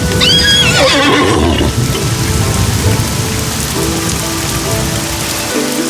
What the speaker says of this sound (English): Mulan, now dressed as a young man, jumped onto her father's horse, Khan.